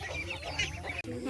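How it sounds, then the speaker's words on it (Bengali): Ducklings calling in a short burst of quacking and honking fowl sounds, fairly close, with a faint voice in the background. "এগুলো কি হাঁসের বাচ্চা না?"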